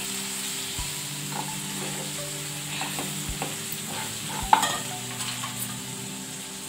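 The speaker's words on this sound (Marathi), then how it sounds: "धने पावडर घालूया हळद घालूया मसाला लास्ट घालणार आहे ह्यातली आणि थोडीशी मिरची पावडर घालू छान मिक्स करून घेऊया" Coriander powder, turmeric and chilli powder stirred into a palak paneer mixture in a pan: a low sizzle under scraping spoon strokes, with a few dull knocks and a sharp clink, close and without talk.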